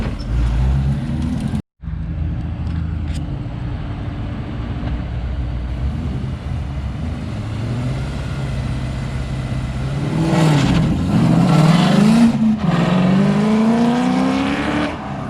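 Coyote-swapped PBH-built Mustang notchback launching at a drag strip, a loud sustained engine roar that climbs in pitch through the gears after a brief bog, heard from trackside.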